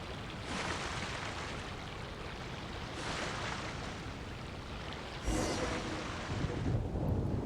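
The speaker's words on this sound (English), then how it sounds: "Where did that thunder come from?" Thunder rolls through a Genshin Impact thunderstorm: a continuous loud, broad rumble with a sharper crack and swell near the end, with no talking.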